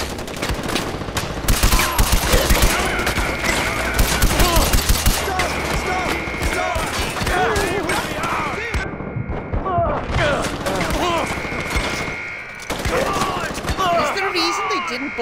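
Rapid gunfire in the video game Far Cry 4, dense bursts of automatic shots and thuds rattling loudly for most of the stretch, with brief lulls and game voices shouting over the action.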